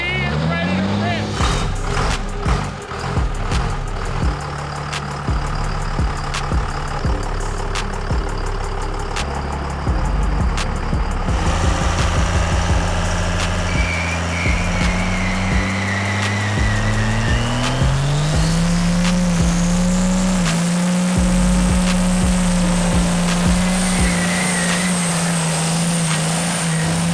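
A rebuilt diesel truck engine idles with a rough, throbbing rumble, then revs up in rising surges and settles into a high steady drone, loud and close, with some talk over it.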